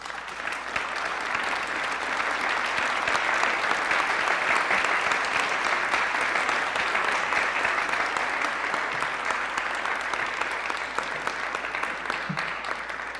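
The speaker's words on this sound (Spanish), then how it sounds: "Un aplauso, por favor." An audience at an academic political forum claps steadily for over ten seconds, a dense, even roar of many hands filling the room, with no one talking over it.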